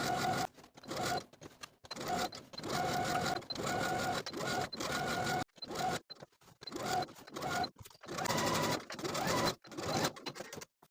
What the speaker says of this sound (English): to end our stitching at the opposite side seam with a 1/4 inch seam allowance